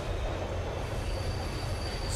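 A train rumbling along the tracks in a realistic horror video game, a steady low roar with a faint high wheel squeal, continuous and close.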